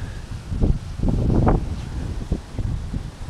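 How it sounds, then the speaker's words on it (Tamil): Strong wind from Cyclone Michaung in Chennai, 2023, buffets the microphone in rumbling low gusts, loudest in the middle, with no voices. "பயங்கர காற்றடிச்சுன்னு இருக்கு."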